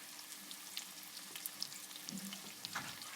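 Onions fry in a pan, a faint steady sizzle with soft crackles and a few light pops, quiet and even throughout.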